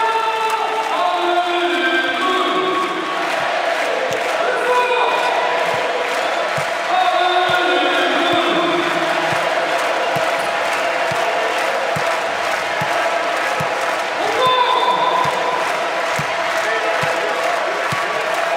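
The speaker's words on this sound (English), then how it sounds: "Well, important match is certainly getting the crowd going." A large crowd roars and chants at a men's volleyball match between France and Brazil, loud and continuous, with steady rhythmic clapping and ball thuds beneath the din.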